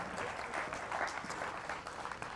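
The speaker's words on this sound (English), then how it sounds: "Give her a round of applause, everybody." Applause from an audience at a workshop session, a dense steady wash of many hands clapping at moderate volume, continuing alone without speech.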